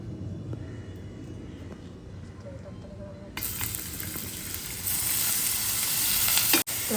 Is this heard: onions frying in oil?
yes